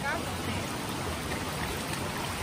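Water gushing from a jet at a river in a steady, dense rush that fills the whole clip, loud and close, with no other sounds standing out.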